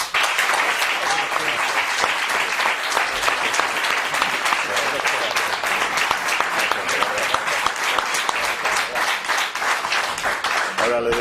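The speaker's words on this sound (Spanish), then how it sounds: "yo creo que les debemos dedicar un sonoro aplauso" Audience at a bullfighting club event giving loud, sustained applause, dense clapping that holds steady for about eleven seconds, close and filling the room.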